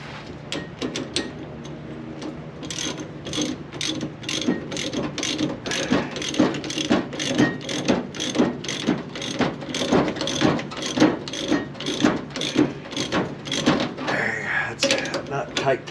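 A ratchet wrench tightening a bolt on a Chevy Nova engine: close, rapid clicking in steady bursts for most of the stretch, starting after a brief pause, with some talk mixed in.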